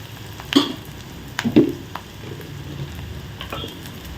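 Onions frying in a pan for soya meat rice, a steady low sizzle with a few stirring scrapes and taps near the start, close and unaccompanied by speech.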